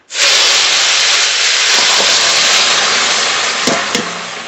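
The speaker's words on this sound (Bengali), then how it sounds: "ফোড়ন করে নিয়েছি, তরকারি ঢেলে দেবো।" Vegetables tip into hot oil tempered with whole cumin seeds, setting off a loud, sustained hiss and sizzle that fills the whole stretch, with a few soft clatters of the pan near the end.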